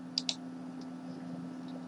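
Two quick, faint mouse clicks come first, over a low steady hum from a computer, followed by a few softer ticks.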